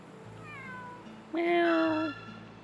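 Cat meowing in the Suikoden V video game at Murayama Castle: a soft, rising meow, then a louder, drawn-out one about a second long, clear against quiet background music.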